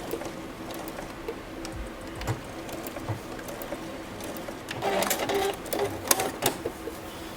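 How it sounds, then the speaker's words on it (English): Sewing machine back-stitching silk for a dress, with bursts of quick needle clatter and short pauses. Light taps and handling sounds fall between the runs, all close and moderately quiet. "Once I get almost to that corner, then I'm just going to back stitch."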